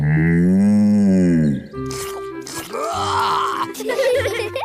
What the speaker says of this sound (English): Bessie's a cow.